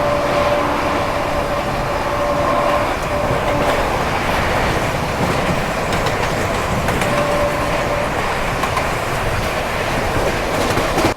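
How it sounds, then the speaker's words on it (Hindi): Onboard an express train in Maharashtra overtaking the Agra Intercity Express, a steady loud rumble of wheels and carriage noise with faint rhythmic clatter and occasional brief squeals, no talking. "और ये शायद से आगरा इंटरसिटी एक्सप्रेस इसको ओवरटेक कर रहे हैं हम।"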